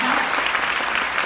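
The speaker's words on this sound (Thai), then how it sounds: "วันนี้จะด้วยเหตุผลไหนก็ช่างปรบมือให้กับตัวเอง" A seminar audience applauds in a brief, dense burst of many hands clapping, loud and close, lasting just over a second.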